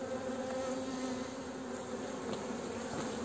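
Dense, steady buzzing of many honeybees around an open hive during an inspection with smoke, a continuous close drone without pause.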